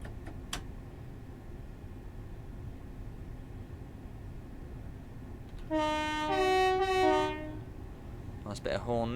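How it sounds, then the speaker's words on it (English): A Class 375 electric train in Train Simulator sounds its two-tone horn for about two seconds midway, loud against a low rumbling cab drone, followed by a brief clatter. "Nice bit of horn there."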